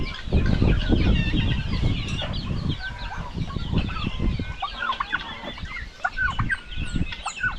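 Farmyard poultry (chickens, turkeys and ducks) call close by on a Philippine backyard farm, a dense busy mix of clucks, gobbles and chirps overlapping continuously, loud and nearby without speech.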